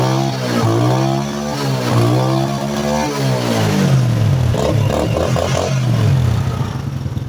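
Close-up revving of a Honda Supra motorcycle fitted with a homemade AC CDI ignition and no pulser, the engine climbing and falling in repeated throttle blips with a loud, rising whine.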